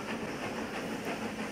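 The Nilgiri mountain railway steam train runs on rack track in a steady, dense rumble with faint rhythmic clatter and hiss, continuous and moderately near, with no voices.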